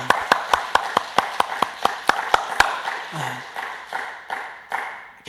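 A church congregation claps together at an early-morning service, starting as a steady, evenly spaced clap before loosening into scattered, fading claps, with a brief voice heard midway.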